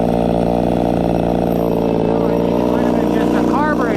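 An Echo 280e chainsaw with a carburetor needing adjustment, running with a loud, steady buzzing engine drone close by, pitch wavering slightly near the end, with a voice talking over it.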